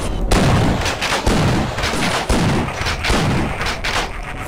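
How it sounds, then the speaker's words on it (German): A pump shotgun fires in the video game Half-Life, several loud booming blasts in a rough rhythm, each with a rattling tail, over continuous game noise. "Ah, Pumpgun."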